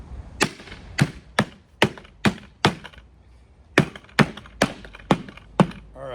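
A yellow Gamma Lid being fitted onto a bucket: about a dozen sharp, hollow knocks and snaps come close together in an uneven rhythm, loud and near, with quiet between them.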